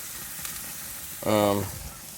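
Pineapple-marinated meat sizzles on a propane grill cooking just under 300 degrees after being turned over, a sudden bright crackling hiss rising sharply for about half a second, then easing back into a low steady background.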